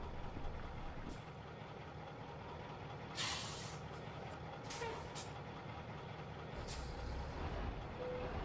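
Air brakes on a truck in American Truck Simulator, driving in Iowa: a sharp hiss of released air bursts out over a steady engine and road rumble, followed by a few fainter puffs.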